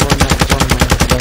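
Rapid automatic gunfire rings out in a first-person shooter video game, a loud, steady stream of evenly spaced shots filling the whole moment without pause.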